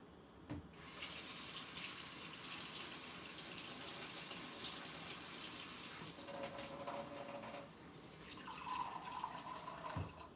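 Half a cup of water runs from a kitchen tap into a container in a steady stream for several seconds, then the pitch rises as the cup fills, with a brief clink, no talk.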